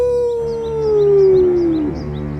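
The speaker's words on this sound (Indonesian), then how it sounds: "Serigala melolong dengan suaranya" A single long, mournful wolf howl from a cartoon, sliding slowly downward in pitch, loud and close, with faint chirping in the background.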